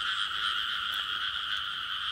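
Frogs croak in a field in Vietnam during a frog-catching outing, a steady, loud, continuous chorus with no talk over it.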